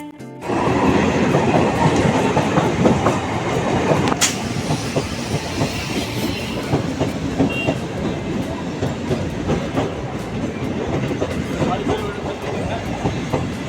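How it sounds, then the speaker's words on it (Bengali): A train rumbles past close by at a railway level crossing, with continuous rhythmic clattering of wheels over the rails and a loud, steady roar throughout. "এই মুহূর্তে আমরা কিন্তু রেল গেটে আটকে গিয়েছি কেননা ট্রেন আসছে"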